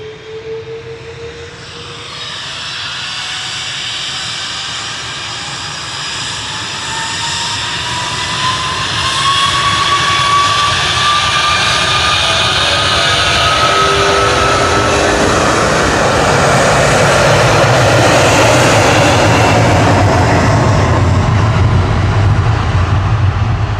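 A Virgin Atlantic jet airliner on flight VS 77 to Bridgetown roars at Manchester Airport, its engine whine rising in pitch as the rumble builds to a loud, sustained, close roar.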